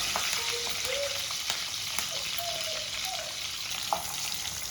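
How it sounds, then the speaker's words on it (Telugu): Onions fry in three spoons of hot oil with cumin, mustard seeds and curry leaves, giving a steady close sizzle with faint crackles and a few soft stirring sounds throughout, no voices. "ఈ ఉల్లిగడ్డలు కొంచెం ఎర్రగా వేగాలన్నమాట"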